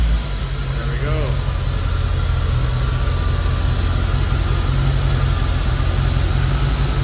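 Engine of a C4 Chevrolet Corvette idling steadily right after starting, a constant low rumble with a faint whine, close and unbroken, with a voice briefly over it.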